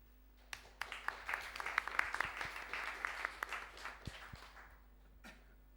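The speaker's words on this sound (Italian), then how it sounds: "Let's welcome her with a warm applause." An indoor audience at a hospitality-school workshop in Emilia-Romagna applauds to welcome a speaker: steady, dense clapping from many hands, rising then fading out over several seconds, with no voices.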